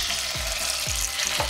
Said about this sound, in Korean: 연어를 팬에 올렸을 때